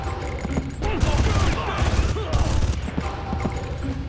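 Gunfire from a prone shooting position in the video game Far Cry 5, a steady run of close, loud shots and bursts over dense battle noise.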